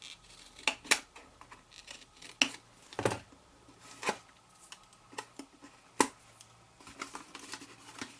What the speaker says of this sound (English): Let's trim that up a bit.